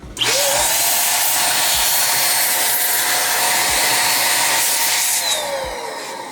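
An IT Dusters AirTec Ultra Type 3 electric air duster blows through its precision nozzle with a loud, close, continuous high whine and rushing air. It starts abruptly and eases slightly near the end.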